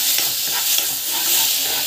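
Chana dal and lentil puree being sautéed and stirred in a hot pan, a close, loud continuous sizzle with scraping stir strokes over a brief stretch.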